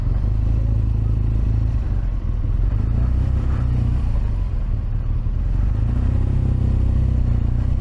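A motorcycle rides through dense traffic in Normandy during the D-Day 80th anniversary crowds, its engine rumbling steadily and loudly up close amid surrounding car noise and clatter.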